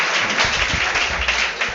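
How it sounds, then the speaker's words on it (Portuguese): Workshop audience claps for a band musician, a short burst of dense applause that stays loud and even throughout, with a faint murmur underneath. "Palmas pro Brunão aqui"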